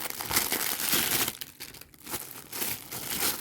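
Plastic bags crinkle and rustle up close in bursts of handling, with a brief lull in the middle before the crackling resumes.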